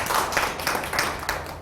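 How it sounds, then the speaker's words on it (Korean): A lecture-hall audience at a Korean speech event claps together, a steady, moderately loud patter of many hands lasting a moment, with no voices over it. "박수 한번 주셔야죠."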